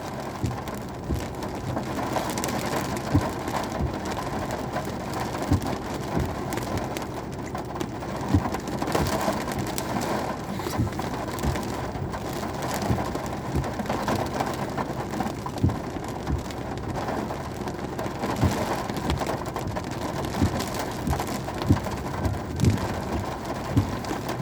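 Heavy thunderstorm in Normandy, dense rain drumming steadily on the roof and glass of a car for the whole stretch, a loud constant wash with low rumbles underneath and no voices.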